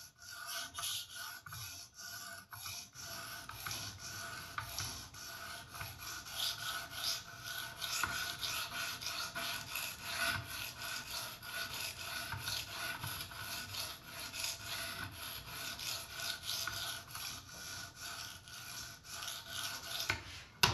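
A high-end folding knife is drawn across Edge Pro Apex sharpening stones in steady, continuous rasping strokes, close and even for a long stretch without any voices.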